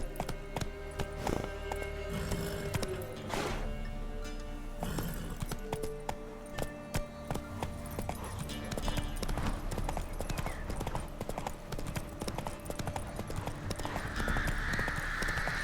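Hooves of a galloping horse in The Witcher 3, a fast, continuous clip-clop rhythm beneath a dense layer of game music and ambience, steady and moderately loud throughout.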